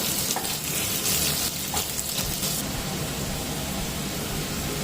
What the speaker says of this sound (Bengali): লবণ দিয়ে দিলাম আলুটাকে হালকা করে ভেজে নেব